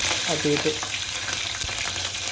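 Cumin seeds and green chillies frying in hot oil for a Telangana vatti thunakala curry, a steady loud crackling sizzle throughout with faint stirring underneath.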